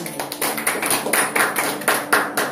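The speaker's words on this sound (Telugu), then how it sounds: "చప్పట్లు కొట్టండి." A church congregation claps hands together, a steady run of close, rapid claps filling the space with no voices heard.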